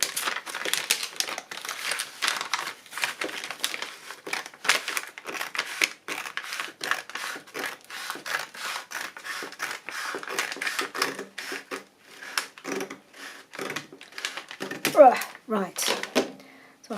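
Material cut off for a 1950s-style journal cover, a long run of close, crisp rhythmic snips and crunches with a few crinkling sounds toward the end, and a person speaking quietly at times.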